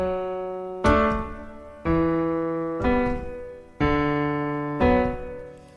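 Piano left-hand part of a late-intermediate Butterfly Etude arrangement, five sustained chords struck about once a second, each stepping lower and ringing before the next, close and unaccompanied.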